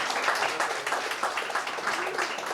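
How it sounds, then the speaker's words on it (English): An indie open screen audience at a film screening claps steadily, a dense wash of many hands applauding throughout at close range. "Clap it up one more time."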